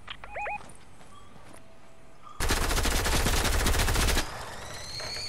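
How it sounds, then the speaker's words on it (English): Gunfire in Fortnite aimed at a gas tank: a dense rapid burst of shots roars for about two seconds after quieter game sounds, then stops abruptly, loud and close. "Just shoot the gas tank."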